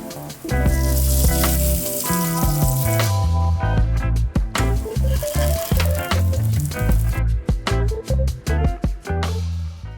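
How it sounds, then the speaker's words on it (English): Thin pancakes with dates in the batter frying in vegan butter, giving a steady, continuous sizzle that runs throughout under background music. "Now we're just gonna fry them in some vegan butter."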